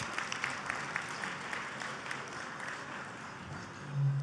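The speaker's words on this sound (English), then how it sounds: "Please give him a round of applause." A banquet audience applauds the chair of a board, a steady wash of many hands clapping at moderate distance, continuing evenly with a brief low swell near the end.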